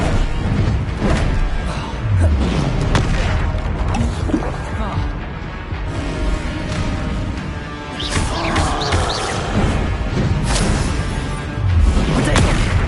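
Spell explosions from the Bombarda curse in Hogwarts Legacy, with repeated booming blasts and crashing impacts mixed with other magical combat effects, continuous and loud throughout.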